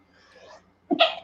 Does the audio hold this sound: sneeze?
yes